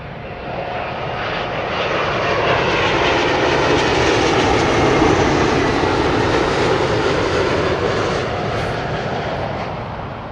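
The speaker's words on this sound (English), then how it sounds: "It's British Airways, Boeing 777-200, and that is coming in from" Loud, sustained jet roar of a British Airways Boeing 777-200 arriving from Chicago at Heathrow, swelling gently to a peak midway and easing slightly toward the end, heard alone.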